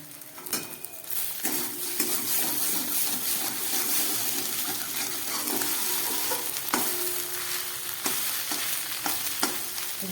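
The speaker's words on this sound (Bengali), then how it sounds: "ডিমটা হাফের বেশি ভাজা হয়ে গেছে" An egg with green chillies sizzles and crackles steadily in a hot pan, with occasional sharp clinks of a utensil against the pan.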